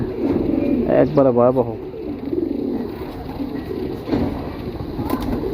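Pigeons in a Mirpur pigeon loft coo in low, rolling murmurs throughout, while someone speaks briefly nearby and louder bursts of sound come and go.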